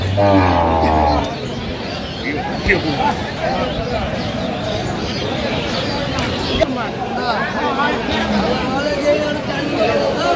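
At a busy rural cattle market selling cows with calves, a loud, close moo opens the scene, then crowd chatter and bargaining voices continue on top of steady livestock and market noise.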